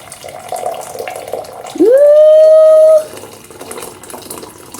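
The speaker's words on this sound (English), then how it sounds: "And then I'm also going to pour myself a drink, which is Berry Blast tea." Berry Blast tea pours into a thermocup in a single continuous stream lasting about a second, its tone rising as the cup fills, heard close and loud over a quiet room.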